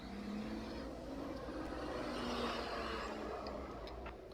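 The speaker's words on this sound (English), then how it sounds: "That's a loud car driving past" A loud car drives past on a road, a broad continuous engine and tyre roar that swells gradually to a peak midway and then eases off slightly, heard alone without talk.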